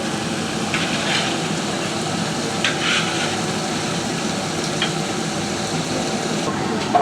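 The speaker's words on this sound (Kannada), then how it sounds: "ನೋಡಿ ಎಣ್ಣೆಯಲ್ಲಿ ಹೆಂಗೆ ಫ್ರೈ ಆಗ್ತಾ ಇದೆ ಅಂತ" Biryani masala fries in hot oil with a dense, even sizzle and hiss at moderate loudness, steady throughout with a few faint clinks.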